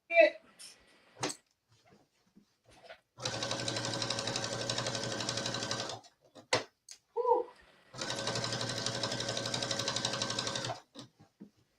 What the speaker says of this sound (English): I thought at least I would be able to stitch down this entire waistband.